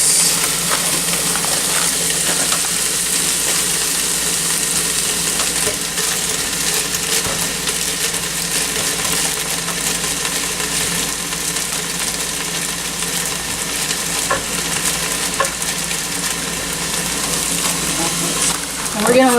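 Onions, celery and carrots sweating in a hot pan give off a low, steady sizzle for the whole stretch. It sits under background noise and occasional voices.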